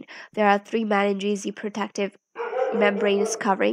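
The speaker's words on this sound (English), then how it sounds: "My puppy is in a mood to bark a lot today." A puppy barks and yips in the background, mixed under a person lecturing steadily in the foreground.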